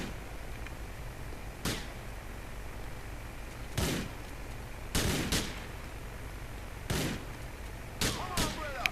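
Shotgun blasts in GTA 4 crack out in sharp, widely spaced bursts, about six or seven over several seconds, some in quick doubles, over steady low background noise with no talking.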